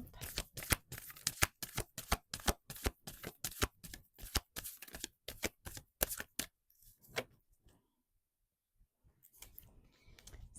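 A tarot deck being shuffled nearby: a quick, steady run of crisp riffling card snaps for several seconds, then a near-silent pause and a few more shuffles at the end.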